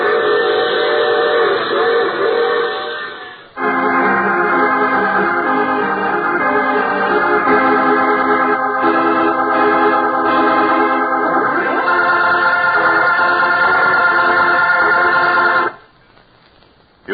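A train whistle in a radio drama sound effect sounds loudly and steadily, first one tone, then a long multi-tone blast after a brief break, ending abruptly.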